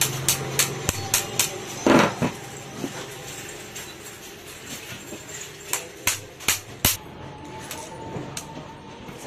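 A hammer taps a bush into the body of a ceiling fan being rewound, a series of sharp metallic knocks in quick bursts with short pauses, close and fairly loud.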